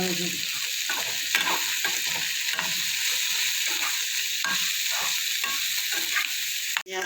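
Onion with salt and a little turmeric sizzles steadily in a frying pan for a Bengali pumpkin-peel paste, with repeated scraping stirs across the pan throughout and a brief knock near the end.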